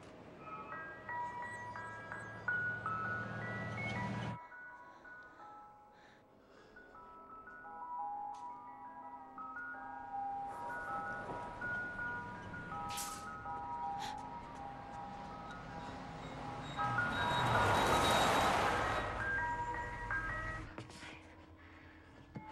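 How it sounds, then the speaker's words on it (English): An ice cream truck jingle plays as a tinkling, music-box-like melody, fairly distant and faint, with pauses and a swell of noise partway through. "It's the ice cream man."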